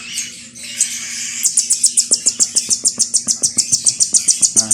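A hand-fed young bird chirps in a rapid, steady series of sharp, high begging calls, close and loud, after a brief softer opening sound; no one speaks.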